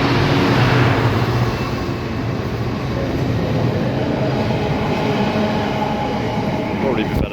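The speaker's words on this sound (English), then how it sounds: "Hey, a freight train." A freight train rolls past on a British railway line, a loud, steady rumble and rattle of wagons that holds throughout, with a brief higher squeal near the end.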